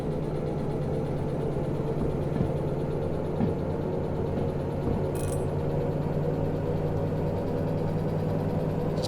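A DE2 diesel locomotive in a railway simulator runs at full power, a steady loud engine drone with a low hum that holds throughout, broken by a brief high hiss partway through.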